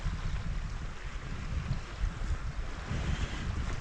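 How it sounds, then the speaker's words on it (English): Gentle small waves lapping and washing against rocks by a jetty at Camp de Mar in January, a steady soft wash with a breezy rumble in the background. "you can hear the little waves just washing up against the rocks"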